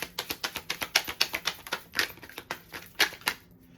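Tarot cards flexed and riffled by hand, giving a steady run of sharp papery snaps and clicks, close and fairly loud, with no voice over them.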